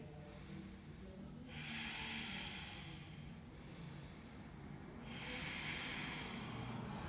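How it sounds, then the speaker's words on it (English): Slow, deep belly breaths during a yoga core class, each long airy inhale and exhale rising and falling in a steady rhythm, close and fairly quiet against a low background hum. "Take those big belly breaths here."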